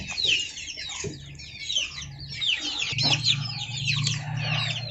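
Several hens clucking close by, a busy mix of short clucks and calls over low background murmur, with some steadier low drones from the flock; no talking.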